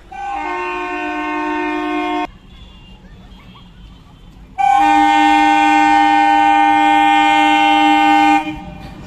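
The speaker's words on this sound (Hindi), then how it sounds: "यह अंतिम ट्रिप आज चल रही है जो कि नई दिल्ली से आई है और दरभंगा को" Darbhanga–New Delhi Antyodaya Express train on its final run sounding a loud, sustained horn in two long blasts separated by a brief pause, with rumbling train noise underneath.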